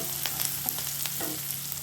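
Oil sizzles steadily in a pan as onions and garlic sauté, with occasional stirring scrapes and pops close by; no one speaks.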